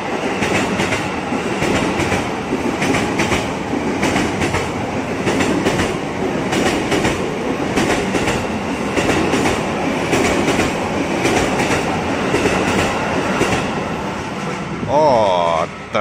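A 12-car commuter train bound for Jakarta Kota rumbles past close by at a Depok level crossing, with rhythmic clickety-clack of wheels over the rails, ending in a brief high squeal.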